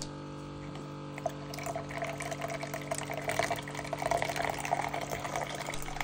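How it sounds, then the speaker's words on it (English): A hand pump pushes water through a portable drinking water filter, giving a steady trickling, splashing flow with faint pumping strokes over a low background hum. "I have the pump going, and as you see here, it's creating some clean drinking water"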